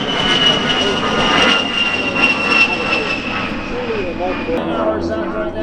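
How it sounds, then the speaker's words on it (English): An A-10 Thunderbolt II jet flying at the Spirit of St. Louis Airshow roars loudly and steadily while an announcer talks over it. "a great big hand for our folks here flying the A10 Thunderbolt 2s for us"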